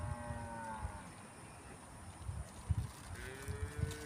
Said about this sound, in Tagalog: Mga baka.